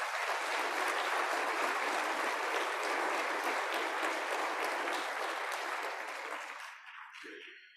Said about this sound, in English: So let's just start with a great round of applause for the terrific